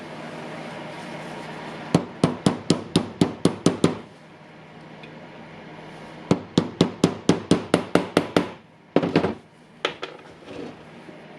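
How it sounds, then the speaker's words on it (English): Sharp metallic hammer blows on a socket drive a bearing into a Makita 9558HNR angle grinder, ringing out in rapid bursts of about eight strikes each, separated by pauses, with a few scattered hits at the end. "the socket is the same size as the inner ring of the bearing, and you can just hammer it"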